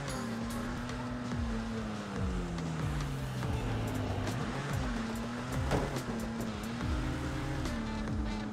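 A BMW E36 race car swerves on track, its engine a steady, loud drone whose pitch rises and dips with throttle changes and shifts, constant throughout with no voices.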